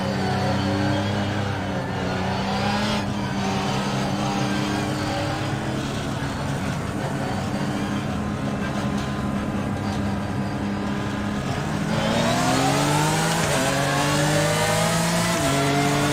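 GT3 race car engines in the iRacing sim at a rolling start at Okayama, a dense layered drone of several motors that holds steady and then swells sharply as they accelerate near the end.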